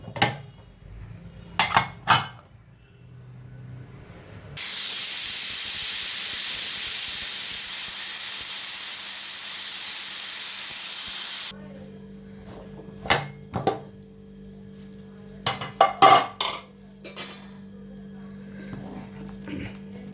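A kitchen pressure cooker, holding a chickpea (kadalekalu) curry with ground coconut and tomato, hisses loudly and steadily for about seven seconds, with clinking pots and utensils before and after.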